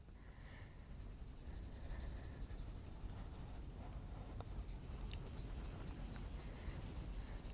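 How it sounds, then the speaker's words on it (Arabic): A coloured pencil or crayon rubs steadily back and forth on paper, close and quiet, as the number three is coloured in red for a second-grade maths lesson. "وسأبدأ بتلوين العدد ثلاثة باللون الأحمر"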